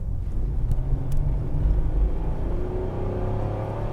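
A cheap, worn Chevrolet Malibu accelerates hard from inside the cabin, a deep engine rumble climbing steadily in pitch as revs build, loud and close with no talking.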